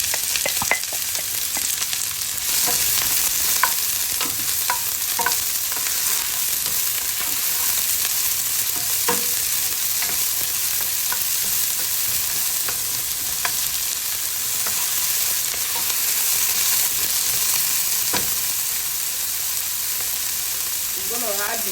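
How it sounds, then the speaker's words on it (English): Chopped onion fries in oil in a pot, giving a loud, continuous hissing sizzle with occasional soft stirring clicks, heard up close and steady throughout. "And we'll add the chopped onion."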